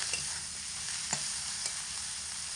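Hilsa fish head is stir-fried in spice masala in a pan, a steady near sizzle with a couple of brief spatula taps, no voices present.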